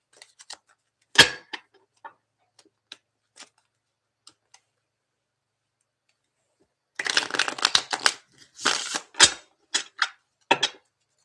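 A Doors-themed tarot card deck being shuffled by hand, a few isolated card flicks and taps at first, then after a quiet pause a run of loud, close riffling bursts in quick succession.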